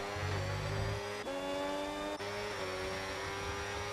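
Race car engines roar and whine in a Bahrain sim racing game as cars overtake, with sustained tones that shift in pitch during gear changes and passes, loud and close with no talk.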